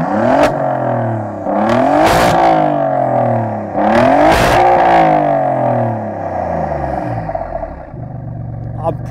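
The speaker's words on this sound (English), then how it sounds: "Alfa has fitted this car with a glorious centre-mounted Akrapovic exhaust system, and it's made out of titanium" An Alfa Romeo Giulia GTAm with a titanium centre-mounted Akrapovic exhaust revs loudly and close, its engine rising and falling in several sharp, harsh blips before settling to a rumbling idle.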